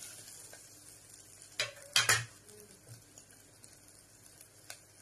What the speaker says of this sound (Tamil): இப்போ நம்ம கட் பண்ணி இருக்கிற தேங்காயை சேர்த்துக்கலாம் சேர்த்துட்டு இதுவும் நல்லா சேர்த்து இந்த மாதிரி கலரி விட்டுருங்க